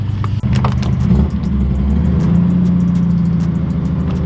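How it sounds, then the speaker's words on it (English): A Datsun car engine, close and loud, rumbles and then is punched, revving up into a steady rising drone of acceleration with a brief dip near the start. "Nice thing about letting the Datsun warm up for a little bit, I can punch it."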